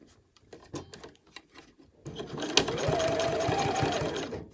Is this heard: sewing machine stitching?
yes